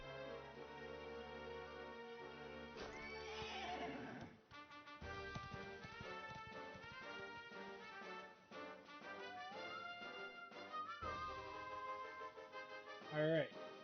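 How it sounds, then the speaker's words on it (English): A horse in the Dragon Quest XI video game whinnies once and then clops along in rhythmic hoofbeats, all laid over steady game music. "That's a good horse."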